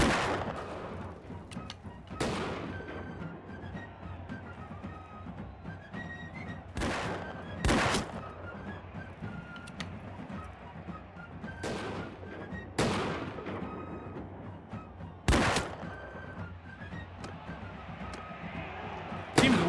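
Musket gunfire in Mount & Blade II: Bannerlord during an early-1700s European battle, with several sharp, separate shots cracking at irregular intervals over a steady battlefield din.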